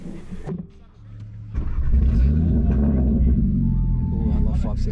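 A five-cylinder car engine revs loudly and steadily at a street car event, rising into a sustained roar after a brief quieter start, with voices faintly audible underneath.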